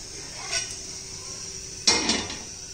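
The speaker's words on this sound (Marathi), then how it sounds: "लोखंडी तवा ठेवलेला आहे।" A cast-iron tawa set down on a stovetop in a home kitchen: a sharp metallic clank with a short rattling ring-out, preceded by a softer clink, against a faint steady hum.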